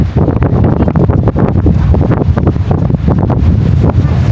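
Strong cold wind buffets the microphone in loud, continuous rumbling gusts at Waterton townsite, close and overwhelming, with no voices.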